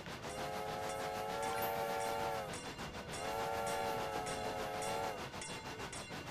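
A little video-game tram rolls along rails with a steady rumble, while a sustained whistle-like horn sounds twice in long, even blasts over the running noise.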